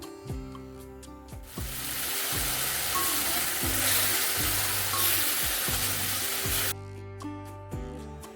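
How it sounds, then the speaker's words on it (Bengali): Spice masala with onion, ginger, garlic and fried potato stir-fried in a pan for chicken kosha: a steady close sizzle with stirring scrapes for about five seconds, with background music throughout. "এবার আমি মশলাটা কষে নিচ্ছি।"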